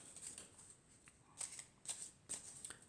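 Cards from an elf oracle deck being handled and drawn, a few soft papery slides and flicks close by in a quiet room.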